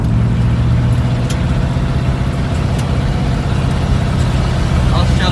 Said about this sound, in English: I'll shut up so you guys can hear the engine